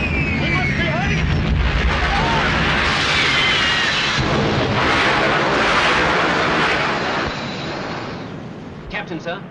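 Warship gun turrets firing during a naval battle: loud, booming rumble with roaring blasts and rushing noise that swells and fades, ending in a few quieter thuds, with shouted voices mixed in.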